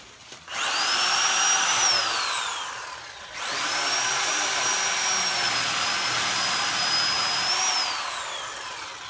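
A reciprocating saw whines loudly in two long bursts, its high motor pitch rising and dipping as it bites through tree branches, with a brief pause between cuts.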